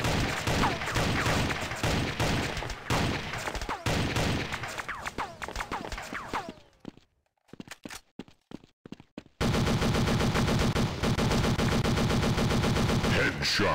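Gunshots in the Android shooter Critical Strike: rapid, loud automatic fire in a dense continuous stream, stopping for a few seconds of near silence with sparse shots, then resuming at full intensity.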